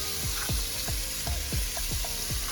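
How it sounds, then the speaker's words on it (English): Onion going into a hot pan of coconut curry prawns, making a continuous close sizzle broken by a regular series of scraping stirs, about two each second, with no talking. "I'm gonna add the onion,"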